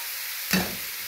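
Tomato puree being stirred into omena frying in a pan, one short burst of sizzling and stirring that flares briefly, then settles to a quieter background hiss.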